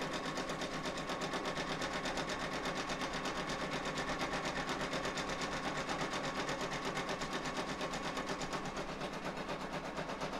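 An embroidery machine stitching a tooth fairy pillow in the hoop, a fast, steady, rhythmic rattling hum running continuously at moderate volume, with no one talking.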